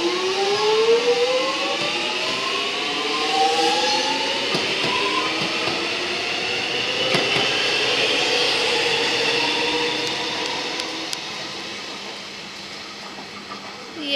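A suburban train pulls away from the platform at Jolimont, its motors whining upward in rising tones over a steady rumble and wheel noise, close and loud throughout.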